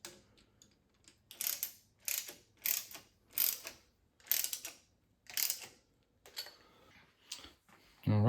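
Ratchet clicking in about a dozen distinct, evenly spaced bursts as bolts are tightened down on a cylinder head being straightened, close and crisp with short pauses between each pull.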